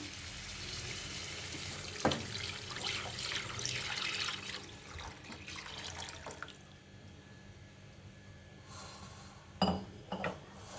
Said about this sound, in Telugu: కరెక్ట్గా అదే గ్లాస్తో 2 గ్లాసులు వాటర్ పోస్తున్నాను